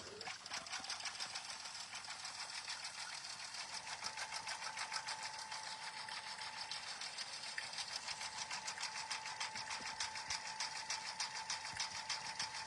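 A home embroidery machine stitches a design onto a notebook cover with a fast, steady mechanical chatter and whirring motor hum, close and continuous throughout.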